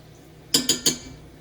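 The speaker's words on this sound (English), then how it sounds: "I'm going to put me some butter in this cast iron" Butter goes into a cast iron pan with three quick, bright metallic clinks of a utensil against the iron, close and alone.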